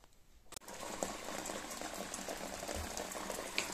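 Water leaks and runs in a stairwell near electrical wiring, a steady loud splashing and pattering flow that starts abruptly and continues without pause.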